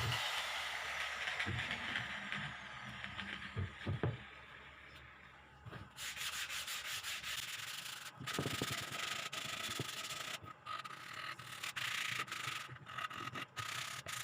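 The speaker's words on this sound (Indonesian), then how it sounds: "kita gerinda dan amplas bidang yang akan kita finishing" Abrasive sanding scrapes across a plywood surface in long rubbing strokes, a gritty rasping hiss that pauses briefly before resuming, close and steady.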